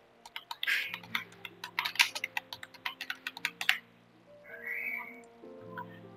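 Rapid, close clicking of keys on a computer keyboard while text is entered in video editing software, then a pause, with soft tonal background music underneath.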